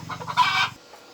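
Chickens cluck close by, a quick run of short repeated clucks that swells into a louder squawk and then stops abruptly.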